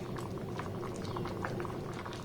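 Pieces of raw mango simmer in sugar syrup in an open pot for an oil-free mango pickle, giving a continuous, dense bubbling and gentle popping at a moderate level, with no talking.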